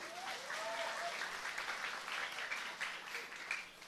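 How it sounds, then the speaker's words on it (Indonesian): A crowd at an Islamic sermon gathering claps for the santri, the boarding school students, in a steady, fairly soft burst of many hands, with a few voices calling out faintly over it. "tepuk tangan untuk santri"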